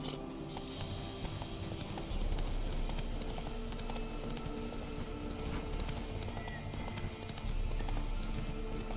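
Roach the horse gallops in The Witcher 3, a steady clip-clop of hooves under a continuous background wash, with a short whinny mixed in.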